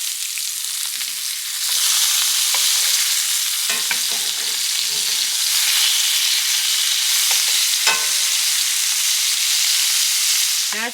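Food fries in a pan over medium heat for Puerto Rican jibarito sliders, a bright continuous sizzle with occasional crackles and spatters, close and steady throughout without any voices.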